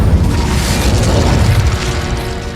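A fire spell blast in the Hogwarts Legacy video game: a loud, sustained roaring whoosh of flame with a booming low rumble that holds for over two seconds before easing slightly.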